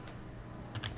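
Typing on a computer keyboard to run a command in a terminal: a few faint, soft key clicks close by, with a small cluster of louder taps near the end of a brief, quiet moment and no talk.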